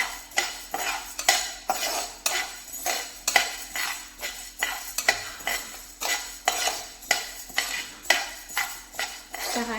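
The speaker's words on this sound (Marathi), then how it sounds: "छान अशी भाजून झाले आहे आपली ज्वारी" Sorghum (jowar) grains roasting in a pan, stirred with a metal spoon in a steady rhythm of repeated scraping strokes and clinks over faint sizzling, close and clear.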